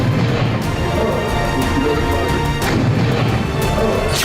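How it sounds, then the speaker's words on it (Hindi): A grenade explodes inside a truck during a gunfight in Nagrota: loud, sustained blast noise with crashing bursts and rumbling, a few sharper booms standing out near the middle of the roar. "ग्रेनेड फटने की आवाज आप सुन सकते हैं।"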